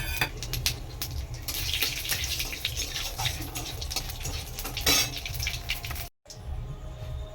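Cumin and bay leaves fry in hot oil with a steady, close hiss and crackle that runs nearly unbroken, then briefly drops out near the end.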